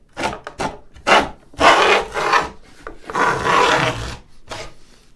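A hand tool cuts a heavy groove in wood during a tool tote build, making several close, rasping strokes of varying length separated by short pauses.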